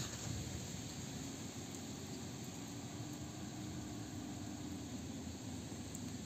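Hyundai/Kia LPi car engine idling unevenly after starting on the second attempt, a steady close rumble with faint wavering and a persistent high whine, no voices.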